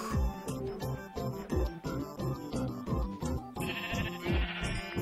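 Sheep bleat in Minecraft Windows 10 Edition, short wavering calls sounding amid rhythmic in-game music and clattering effects at moderate volume.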